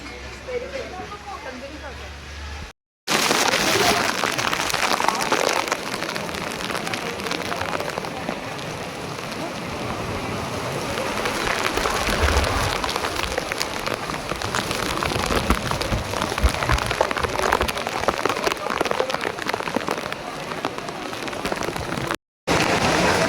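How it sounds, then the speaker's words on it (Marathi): Heavy rain lashes down at Juhu beach in Mumbai, a loud, dense hiss of drops on surfaces that fills the whole stretch, with a brief gap near the start and voices faintly under it. "आणि एवढा जोरदार पाऊस येतोय"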